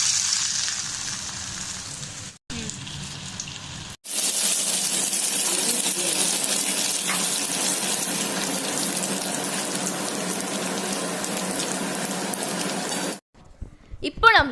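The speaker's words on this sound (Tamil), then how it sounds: "நம்ம ப்ரிப்பேர் பண்ணி வச்சிருக்கிற இந்த உருளைக்கிழங்கு கிறிஸ்பி பாலை போட்டு வறுத்தி எடுக்கலாம்" Potato bread balls deep frying in hot oil give off a loud, steady crackling sizzle that runs for most of the stretch, with short quiet breaks and brief handling sounds at the start and end.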